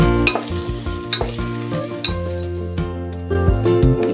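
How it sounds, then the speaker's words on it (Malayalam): Green chillies sizzling in a hot pan for a Kerala-style chilli pork, loud crackling frying with repeated clinks and scrapes of a spoon against the pan, no one speaking. "ഇനി ഇതിലേക്ക് പച്ചമുളക് ഇട്ട് കൊടുക്കാം."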